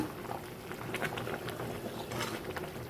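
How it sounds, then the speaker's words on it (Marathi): Paneer and pea gravy bubbling and simmering in a pan, a steady close wet bubbling with soft pops throughout, no voices. "आणि सगळं आपल्याला उकळून घ्यायचं आहे"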